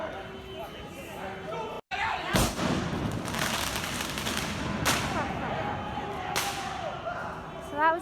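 A sharp bang from a firework thrown at a street protest goes off amid a noisy crowd, followed by a few more cracking pops over continuous shouting and chatter.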